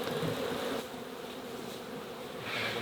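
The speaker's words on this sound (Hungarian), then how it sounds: "A kíméletes légáram a méheket egyszerűen a levegőbe emeli, ahonnan visszarepülnek saját kaptárjukhoz." Honeybees blown off hive frames by a motorized blower buzz in a dense, continuous swarm hum, close and steady, with no voices.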